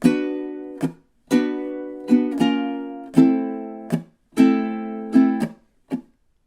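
A close ukulele strums a minor blues riff, ringing chords broken by quick percussive muted strokes in a steady, repeating groove.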